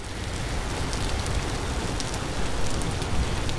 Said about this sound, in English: And it's still raining outside.